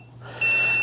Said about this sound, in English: it's going to beep until I get off of the screen